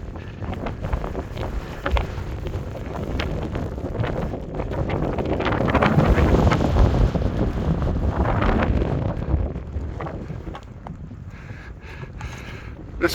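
Strong, gusting wind roars across the mic on a Scottish mountain path in Glen Lyon on a wet day, building to a loud peak midway, then easing slightly, with no talking.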